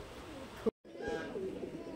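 A Pagla Biter pigeon coos softly nearby, a low throaty call broken by a brief dropout, with faint background noise and no clear talk.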